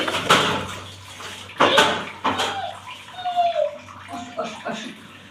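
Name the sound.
washing a boot with water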